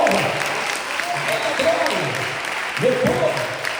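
A Baptist church congregation applauds during a Sunday missions service, sustained clapping filling the room while a preacher's voice carries over it.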